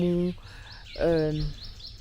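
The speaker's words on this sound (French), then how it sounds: "Je suis vachement contente d'être écouter les oiseaux." Birds chirp outdoors in Yaoundé, Cameroon, with a few faint high tweets running under and between a woman's speech.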